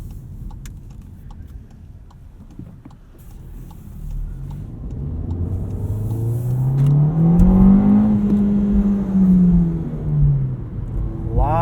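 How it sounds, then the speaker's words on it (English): A 2019 Volkswagen Jetta 1.4T S with a six-speed manual revs up from idle, its engine note climbing loudly to a peak and then slowly falling as the revs hang, heard close from inside the cabin with no talking. "Lots of rev"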